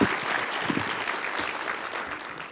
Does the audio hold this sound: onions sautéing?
no